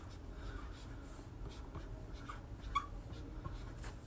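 Pen or pencil scratching on paper close by, soft intermittent strokes with brief pauses, quiet throughout.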